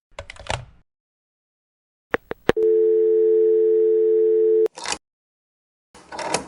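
A steady telephone dial tone on an electromechanical exchange line hums continuously for about two seconds after the receiver goes off hook, preceded by a few sharp clicks and followed by bursts of noise.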